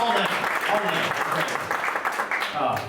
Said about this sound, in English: we'll clap all night